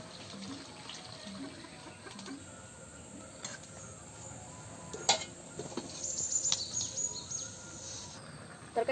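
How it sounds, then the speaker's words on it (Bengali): Water is poured into a pot of curry with river fish and vegetable stalks, a quiet trickling wash with faint birdsong and insects in the background. "এখন পানি দিয়ে দিই"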